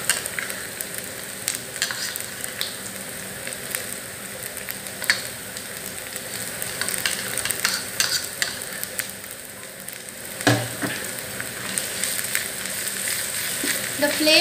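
Ginger, garlic and green chili paste fries in a pan on a low flame with a continuous, fairly loud sizzle. Scattered utensil scrapes and clicks run through it, and one sharper knock comes near the end.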